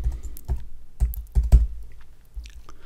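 A keyword being typed on a computer keyboard, with a handful of soft, irregular keystroke clicks close by in a quiet room.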